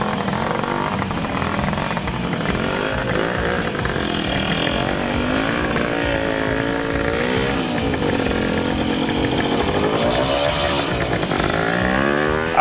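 Trials motorcycle engine revving loudly and steadily as a rider works through a low-speed competition section, the note rising and falling with throttle blips throughout.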